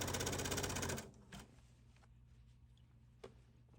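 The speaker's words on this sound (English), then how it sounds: "We're going to top stitch on top of our first line of stitching along the folded edge." A sewing machine topstitches along the folded edge of a shirt facing, running in a loud steady burst for about a second and then stopping, leaving faint low hum and a couple of soft clicks.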